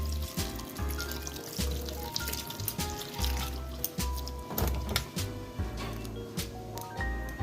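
Mushrooms being washed by hand in water, with continuous sloshing, trickling and pouring sounds and rhythmic swishes as they are rubbed and rinsed, close and moderately loud.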